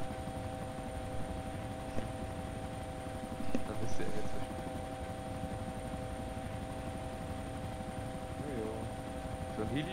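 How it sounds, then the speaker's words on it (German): A steady helicopter engine-and-rotor drone in the video game DayZ hums throughout at an even level, with a brief louder swell partway through and faint voices underneath. "Heli ist doch eigentlich schon was Schönes"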